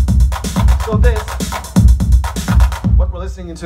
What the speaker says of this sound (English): what we're listening to there is a TR-909 kit